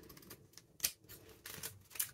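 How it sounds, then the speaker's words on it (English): Cheap scissors snipping through glue-covered junk-mail paper, a handful of sharp crisp cuts at irregular spacing, close and fairly quiet with no speech. "let's just cut off the bits that we don't need."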